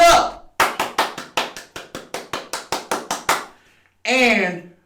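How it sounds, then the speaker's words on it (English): One person claps hands about fourteen times in a quick, even rhythm, close and crisp, followed after a short pause by a spoken voice. "We gotta clap it up."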